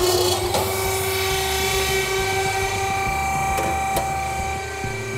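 A Cat 300.9D mini excavator's HPU300 hydraulic power unit drones loudly and steadily with a tonal whine, running close by from start to end.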